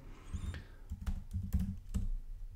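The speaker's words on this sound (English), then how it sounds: "I can just execute the script by typing in Python and then the" Computer keyboard keys tapped in short bursts as a command is entered, crisp close clicks in a quiet room with irregular rhythm and brief pauses between strokes.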